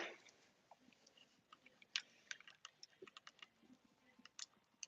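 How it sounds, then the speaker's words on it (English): Soft, irregular clicking from buttons on a Nintendo Switch being played during a stream, a quiet scatter of small taps spread throughout with no talking. "Sorry if you hear it clicking in the background."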